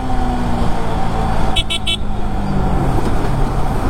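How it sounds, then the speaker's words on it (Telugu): Heavy city road traffic heard from a moving motorcycle on a busy Sunday: a loud, steady engine and road roar with three quick, close car-horn toots in the middle. "సండేస్ అది కూడా ఫుల్ ట్రాఫిక్ అవుతుంది ఈ మధ్యన."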